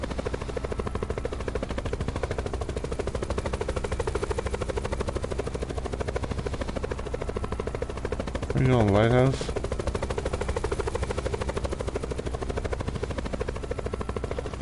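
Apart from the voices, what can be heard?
helicopter in a video game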